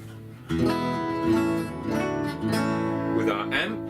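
Restored vintage archtop guitar played through its pickup into an amplifier, sustained strummed chords ringing with rich harmonics at steady volume, near and clear, with no talking.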